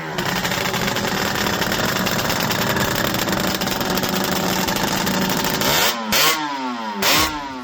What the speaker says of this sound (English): Paul was kind enough to fire it up for us, which we'll be cutting to a clip of right now